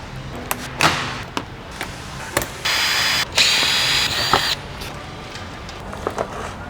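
A power tool removes 10mm bolts from the under tray of a Kia Cerato GT sedan bumper in several short whirring bursts, separated by quieter clicks and handling noise.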